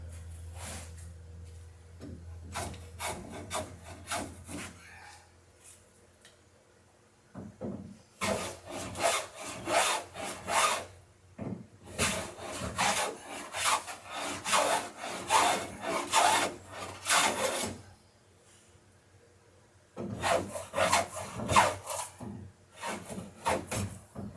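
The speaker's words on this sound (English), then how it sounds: "So I can lay my plane along the stem, and then you can see where it hits the bottom" A hand plane shaves the stem of a wooden sailing dory, giving repeated rasping strokes in steady bursts with brief pauses between runs, close and clear, with no talking.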